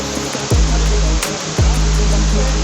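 Water streams down from crevices in the rocks of a forested hillside toward a waterfall at the source of the Logawa River, a steady broadband rush close by, broken by a few low rumbling gusts.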